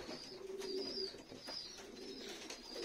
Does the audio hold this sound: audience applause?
no